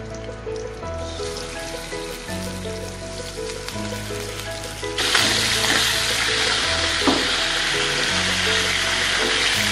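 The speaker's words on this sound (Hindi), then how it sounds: "मैंने कढ़ाई को गर्म करने रख दिया है, इसमें पहले मैं ऑयल डालूँगी, मैंने डाल दिया इसमें ऑयल और अब मैं इसमें डाल रही हूँ चिकन" Chicken dropped into hot oil in a karahi, the quiet background suddenly bursting into loud, dense frying sizzle halfway through that continues steadily to the end.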